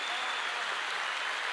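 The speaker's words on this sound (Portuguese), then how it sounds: "Vamos aplaudir mais uma vez" A church congregation applauding, a dense wash of clapping from many hands that stays steady and full throughout, moderately loud and without pauses.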